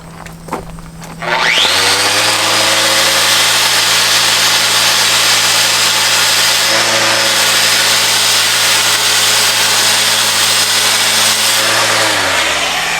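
A power tool sanding down a boat part runs steadily and loudly for about eleven seconds after a brief start-up, with a constant motor hum and broadband grinding before winding down at the end.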